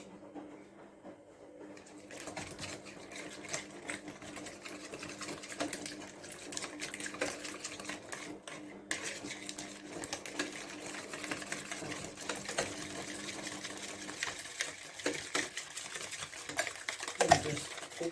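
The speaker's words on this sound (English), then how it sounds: "Just whisking that together." A whisk beats ingredients together in a bowl while snacks and packed lunches are prepared, making a fast, continuous metallic rattle and scrape that runs steadily for many seconds, close and fairly quiet with no talk.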